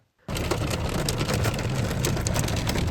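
Hailstones pelt the body of a taxi in a heavy storm, starting abruptly and staying a dense, loud, unbroken drumming rattle up close.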